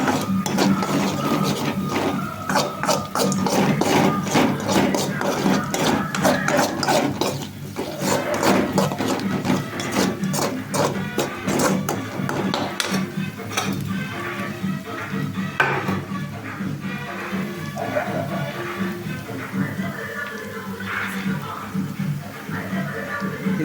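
Onions sauté in a pan with turmeric and chilli powder for an egg curry, giving a steady busy sizzle with frequent clicks and scrapes of a stirring utensil against the pan, under a voice talking.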